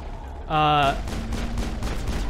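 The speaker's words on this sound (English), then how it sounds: "You can shoot the creepers." Mass Effect gunfire aimed at creepers comes as a rapid rattling burst, with a loud tonal electronic blast near the start and a voice talking underneath.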